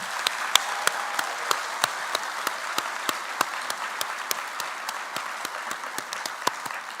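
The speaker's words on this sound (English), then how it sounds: "Let's give one more round of applause for all of our recipients tonight." An audience at a spring university awards ceremony applauds the award recipients, a steady wash of many hands clapping with sharper individual claps standing out, sustained throughout with no talk.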